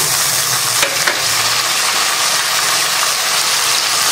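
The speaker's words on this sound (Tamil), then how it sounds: "வெங்காயத்தை முழுசாக போட்டிருக்கிறதுனால கொஞ்சம் நல்லா வதக்கிக்கணும்" Whole onions sautéing and sizzling in an oil pan for kuzhambu, a steady, dense frying hiss held close and loud throughout, with a couple of faint stirring knocks early on.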